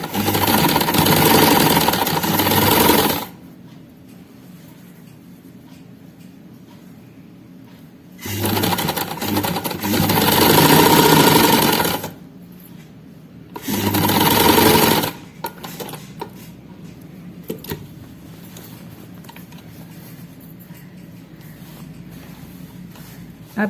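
A sewing machine stitches a strip onto a kameez, running loud in three bursts of rapid whirring stitching separated by quieter pauses with light handling sounds.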